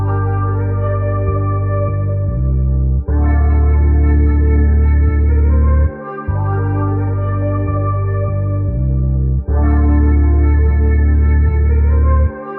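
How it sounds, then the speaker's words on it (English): A melodic music sample pitched up three semitones plays loud and continuous over a beat, its phrase repeating in regular sections with brief dips between them; no one speaks. "I pitched it up 3 semitones, and it sounds like this."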